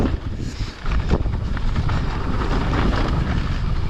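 Strong wind buffeting the microphone on a seaside mountain bike ride at Holyhead Mountain, Anglesey, a loud continuous roar with gusts and no talk.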